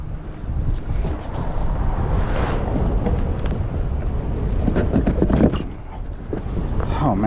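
Strong gusty wind roars and buffets the microphone on open water while kayaking, a loud, continuous rush with water sloshing against the boat.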